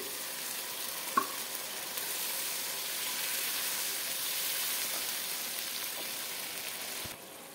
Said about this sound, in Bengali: এবার আমি দিয়ে দেবো এই দুধ, নারকেলের দুধটা দিয়ে দেবো। আমি সবটাই দিয়ে দিচ্ছি।